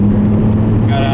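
Saab 9-3 Aero wagon accelerating hard in third gear with a slipping clutch, a loud, close, droning engine note rising slightly in pitch over a brief moment.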